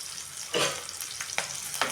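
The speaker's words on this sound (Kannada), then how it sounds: "ಕರಿಬೇವು ಸೊಪ್ಪು ಹಾಕ್ಬಿಟ್ಟು ಎಣ್ಣೆಯಲ್ಲಿ ಚೆನ್ನಾಗಿ ಫ್ರೈ ಮಾಡ್ಕೊಳ್ಳೋಣ" Curry leaves hit hot oil and crackle, a close bright sizzle that bursts up then keeps hissing, with a few stirring scrapes punctuating it.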